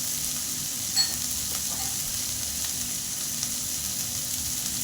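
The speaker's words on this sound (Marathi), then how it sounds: "कंदा पटकन परातला जातो" Onion frying fast in a pan, giving a constant close crackling sizzle with a few small pops and scrapes, and nobody talking.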